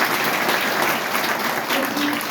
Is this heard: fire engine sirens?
no